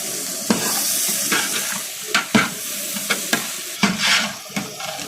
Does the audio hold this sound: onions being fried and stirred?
yes